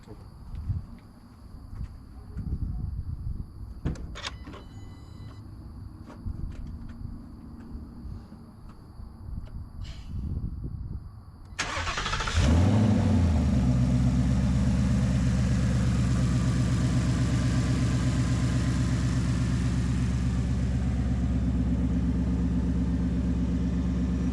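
Car engine cranking and catching after a P51 intake install on a stock tune, then settling into a loud steady idle; faint talk and workshop rustling come before the start.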